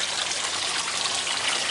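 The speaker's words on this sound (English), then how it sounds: "We're piping it through the jacketed condenser and then draining it down through the shower head back into the garden pond" Water from a jacketed condenser drains down through a shower head into a garden pond, a steady close splashing trickle that runs without a break and with no voices.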